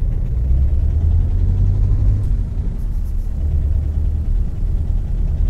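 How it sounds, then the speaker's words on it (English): A heavy, low Magirus Deutz 290 truck engine in a video game rumbles steadily and loudly throughout, with a deep throaty drone and no voices. "Listen to that engine."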